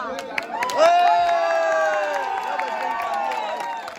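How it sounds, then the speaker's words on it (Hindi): A crowd at a pigeon-flying contest in Agra cheers with whistles and drawn-out shouts, with scattered claps punctuating the noise, rising to a peak early and then holding at a lively level. "तालियां बज गई।"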